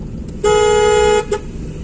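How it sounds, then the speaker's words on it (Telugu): Up close in traffic, a car horn gives one firm honk of under a second, then a quick short tap, sounded by a learner driver pushing past motorcycles. "కొట్టి హార్న్ కొట్టాలి."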